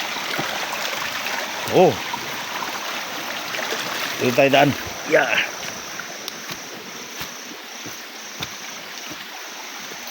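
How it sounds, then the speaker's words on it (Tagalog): Strongly flowing spring water at Mapingan, Alta Vista, rushes in a steady broadband hiss, with people speaking briefly over it. "Talagang malakas ang tubig dito."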